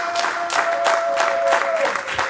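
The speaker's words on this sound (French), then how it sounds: "On acclame très fort pour notre Dieu." Church congregation clapping and cheering for God, a short burst of dense applause with a sustained tone running underneath, close and fairly loud.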